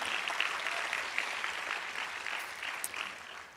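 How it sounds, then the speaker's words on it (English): Audience applause for Nobel Peace Prize laureates at the Desmond Tutu International Peace Lecture, a steady wash of many hands clapping evenly throughout, moderately distant and without speech over it. "let's give them a round of applause"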